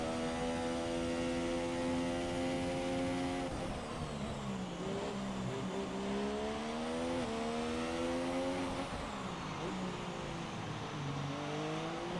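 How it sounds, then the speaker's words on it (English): Formula 1 race cars at the Singapore Grand Prix street circuit, their engines screaming loudly and continuously with whining tones that climb and drop as cars accelerate, shift and pass by. "Give you some sounds of the F1 cars currently as they are"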